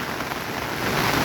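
Heavy rain pours steadily onto a plant nursery in Kadiyam during a storm, a dense, continuous hiss of drops striking surfaces that grows slightly louder toward the end, with no voices.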